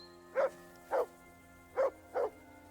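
Dog barking in the medieval video game Kingdom Come Deliverance 2, five short, moderately loud barks spaced irregularly over a steady low game ambience, with no talk.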